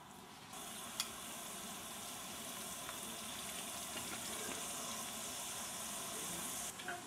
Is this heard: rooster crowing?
no